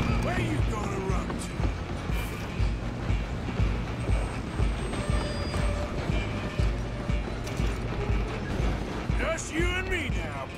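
A train runs in Red Dead Redemption 2, a continuous rumble of wheels and rattling carriages with rhythmic clacking, hoofbeats and brief metallic squeals nearby, under occasional voices.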